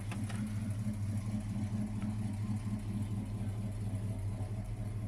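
A muscle car with a Rally Package and a 318 motor cruises through a neighborhood. Its low engine rumble is steady and moderately loud for the full five seconds, with no talk.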